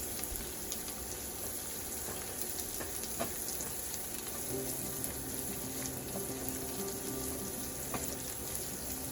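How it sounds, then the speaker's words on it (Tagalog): Meat sautéing in a pan for Bicol Express gives a steady sizzle and crackle, moderately faint, with occasional scrapes of stirring and no voices. "gisa lang natin hanggang sa lumambot"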